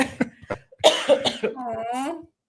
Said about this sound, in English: I'm also like coughing